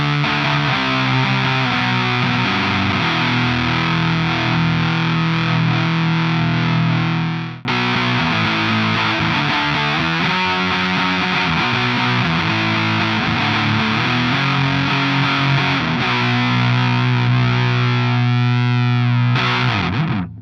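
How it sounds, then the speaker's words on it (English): An electric guitar played through a fuzz pedal with its mid-cut engaged gives thick, saturated distorted chords and sustained notes, loud and close, with a short break partway through. "but with the mid-cut in, the fuzz sounds something like this."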